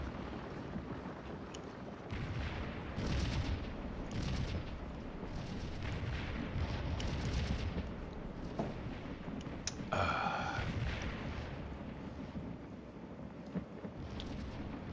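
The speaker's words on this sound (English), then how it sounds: "Let the artillery continue the work." Artillery fire in the Civil War strategy game Scourge of War at the Battle of Stones River: distant, rumbling cannon booms rolling one after another, with one sharper blast near the middle and a breathy, wind-like background.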